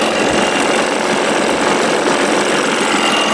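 A 1987 Johnson 6 hp outboard motor runs at a steady idle, a loud, continuous buzzing drone with a rapid mechanical rattle and no change in pitch throughout.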